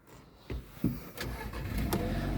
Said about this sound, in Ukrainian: Також запускається машинка.